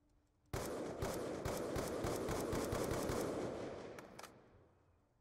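Sustained automatic gunfire in the Call of Duty Black Ops 2 campaign, a loud rapid burst of shots running for several seconds, then fading into a couple of final separate cracks.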